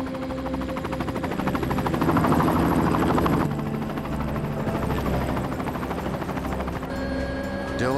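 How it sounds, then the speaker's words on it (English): A military helicopter, the chopper in a SEAL and Marine rescue from an embassy in Somalia, thrums steadily and loudly throughout, with a deep rotor throb and whining turbine that swells slightly before settling. "The chopper could hold only 60 passengers, but there were at least three times that many at the embassy."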